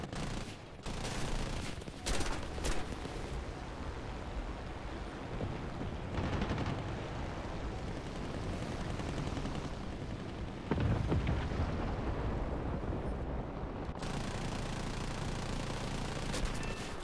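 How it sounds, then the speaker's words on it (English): Sustained bursts of aircraft gunfire and explosions from War Thunder, a dense continuous rattle with sharp blasts layered throughout, loud and close. "Just shooting into the fireball!"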